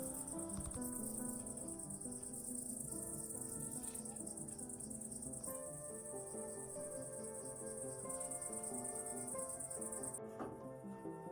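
Crickets chirp in a garden on a quiet evening, a faint, steady high trill running throughout with no voices.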